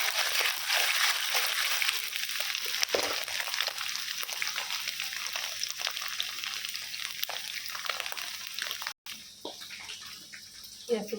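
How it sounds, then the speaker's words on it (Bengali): Cut paneer fries lightly in hot oil with a continuous, close, hissing sizzle that briefly cuts out near the end. "কেটে নিয়েছি, তেলে ছেড়ে দিলাম। হালকা ভাজবো পনিরটাকে"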